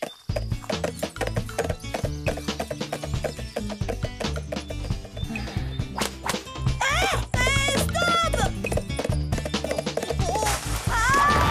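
A horse in a cartoon scene clip-clops steadily under a dense, loud music score, with neighs and whip-like cracks briefly standing out from the busy mix.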